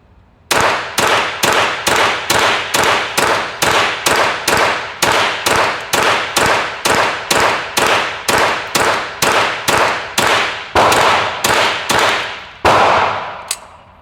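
A BCA AR-22 rifle firing cheap ammunition, about two dozen sharp, loud semi-automatic shots in a steady, evenly spaced rhythm, then a pause and a final shot, close and alone without talk.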